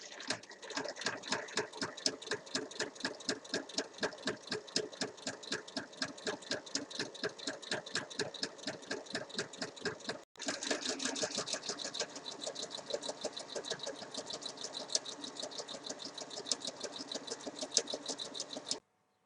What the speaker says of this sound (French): je vais maintenant venir piquer sur toute la longueur à 1 mm